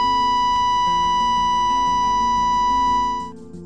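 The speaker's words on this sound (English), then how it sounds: "The abandonment alarm sounds like this." Abandonment alarm on the Ofon offshore platform, a loud continuous electronic tone holding steady before fading out near the end.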